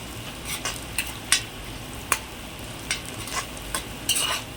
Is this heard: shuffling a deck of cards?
no